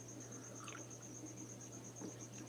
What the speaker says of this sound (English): I got too many crickets in that 20 long.